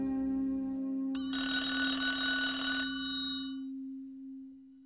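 Telephone rings once in a long, steady electronic burst lasting about a second and a half, over a sustained low musical drone that fades out afterward.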